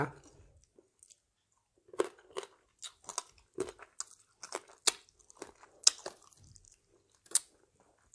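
Crunchy, wet chewing of blue crab pickled in fish sauce, close to the mic, with irregular bites and squishes in bursts separated by quiet pauses.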